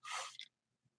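A single short sneeze from a man, a sharp burst of breath over about half a second, close and faint, followed by quiet.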